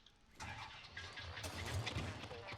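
A vehicle engine in the building game Scrap Mechanic cranks up and settles into a steady running hum, close and constant after a sudden start, with no speech.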